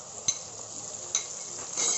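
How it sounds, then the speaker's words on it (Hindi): Capsicum and spring onions stir-frying over high heat for gobi manchurian make a soft, continuous sizzle with a few sharp utensil taps against the pan. "2 मिनट हो गए हैं हमारे कैप्सिकम को फ्राई होते हुए"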